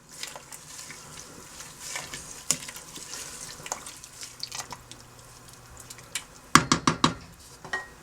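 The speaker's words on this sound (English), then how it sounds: "Add your kale or Swiss chard. Give it a quick stir." Kale or Swiss chard being stirred into a pot for a vegan pot pie, with soft rustling and wet scraping, then a burst of sharp metallic clanks from a spoon against the pot near the end.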